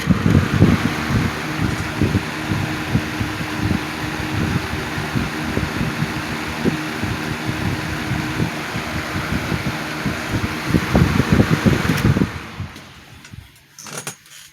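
A 1987 Patton rotary box fan runs on its high setting nearby, a steady loud whirring hum with rattling pulses from the rotating grille, easing off sharply near the end as it is switched down.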